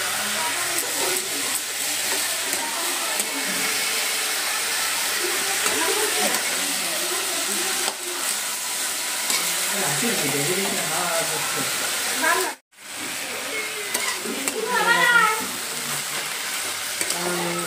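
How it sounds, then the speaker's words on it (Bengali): Sour fruit cooked with salt and turmeric is stirred slowly in a pan, producing a steady, moderate sizzle with scraping stirs while someone talks over it. "এবার আস্তে আস্তে নাড়াচাড়া করছি।"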